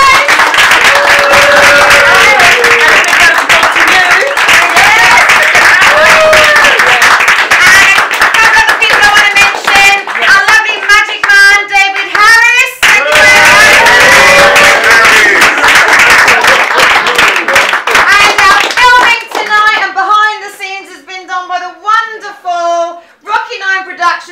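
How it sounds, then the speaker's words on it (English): Audience at a business club's fifth birthday spotlight show claps loudly and steadily, the applause thinning out toward the end as individual claps stand apart, with voices and cheering mixed in throughout. "A big round of applause to you guys."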